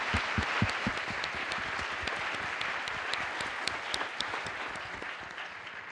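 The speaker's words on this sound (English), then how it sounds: "I do want a round of applause for the flight dynamics team" An audience applauds at a NASA press briefing, a dense, steady patter of many hands clapping at an even level throughout, with sharper individual claps standing out near the front.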